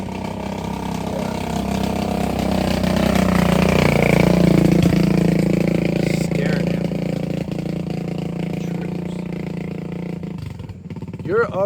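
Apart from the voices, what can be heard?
motorcycle with muffler problem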